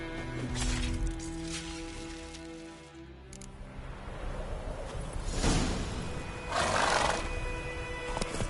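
Roach, the horse in The Witcher 3, gives a neigh and whinnying snorts amid game music and ambient sounds, moderately loud, with no speech.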